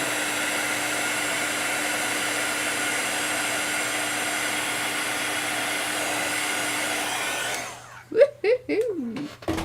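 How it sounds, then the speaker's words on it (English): A handheld heat gun blows steadily for several seconds while embossing powder is melted during a mixed-media art journaling session, then cuts off and a few faint voices and thumps follow. "What color was that you used to emboss with, Mariah?"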